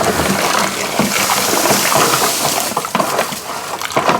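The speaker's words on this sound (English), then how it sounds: "I'm gonna mix in the 8 pounds of sugar into that nice hot liquid, and that should melt it all. You just stir it and pour." Sugar is stirred into hot liquid and poured, giving a continuous, close splashing and sloshing wash with no break through the whole clip.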